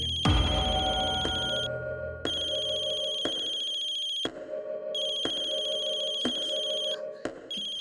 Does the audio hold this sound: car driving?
no